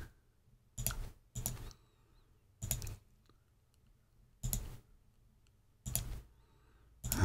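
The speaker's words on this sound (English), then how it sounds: "Lots of clicking." Six separate bursts of clicking spaced a second or so apart, each a short cluster of crisp clicks over a quiet, faintly humming background in the puzzle game Alan's Automaton Workshop.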